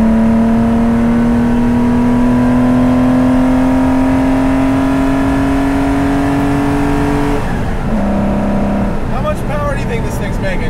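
A 1973 Porsche 914/6 with its flat-six engine running while driving, a loud steady drone that rises slowly in pitch before a brief shift and change in tone, continuous and close throughout.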